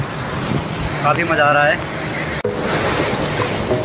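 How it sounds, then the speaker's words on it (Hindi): Big ocean waves surge and roar at a beach in Goa, forming a steady broadband wash with some wind buffeting, while a person talks excitedly close to the microphone over the surf. "पीछे लहरें आ रही है काफी बड़ी"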